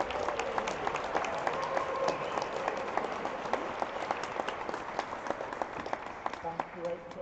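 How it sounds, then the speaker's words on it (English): An audience at the Creative Lives Awards ceremony applauds a speaker, a continuous wash of many hands clapping at moderate distance that tapers slightly toward the end. "Big round of applause for Robin, please."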